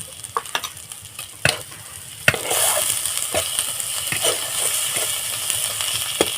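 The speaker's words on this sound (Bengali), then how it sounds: "মশলাটাকে আমি ভালোভাবে কষিয়ে নেব" Ground coriander, cumin and black pepper paste frying in a pan for a Bengali prawn dish, sparse spoon clicks and scrapes at first, then a loud steady sizzle with repeated stirring knocks, close up and without speech.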